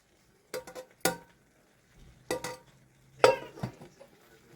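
Cooked penne pasta tipped into a pan of sauce for spicy penne chicken pasta: a few separate, close clatters and clinks spaced over several seconds, with quiet gaps between and no talking.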